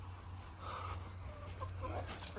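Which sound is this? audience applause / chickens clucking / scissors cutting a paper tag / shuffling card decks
chickens clucking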